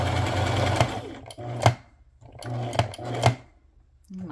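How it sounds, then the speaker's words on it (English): A sewing machine stitches a slimline card together in two quick bursts of rapid, whirring needle strokes, each ending in a sharp clack, separated by brief pauses, heard close and alone. "So I'm just gonna sew this together."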